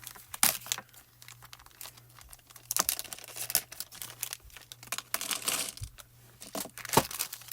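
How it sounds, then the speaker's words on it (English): Small red wax beads pour into a wax seal melting pot, giving a run of light crinkly, rattling patters and brief bursts, close and fairly quiet with no talk. "So now I can add my red wax beads in there."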